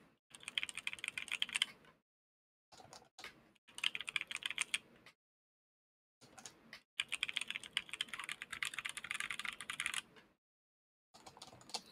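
Rapid keystrokes on an HHKB keyboard with tactile switches, close and crisp, in several bursts of fast typing separated by short silent pauses.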